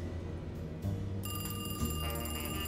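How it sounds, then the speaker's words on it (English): A telephone rings insistently in Alone in the Dark (2024), a steady electronic bell tone with bright repeating overtones that swells louder partway through over a low ambient game drone. "I hear a phone"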